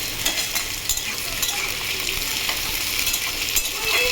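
Onions sizzle steadily in hot oil nearby, with bright crackling and occasional scraping stirs of a spatula through the pan.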